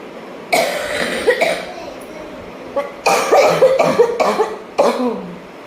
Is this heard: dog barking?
no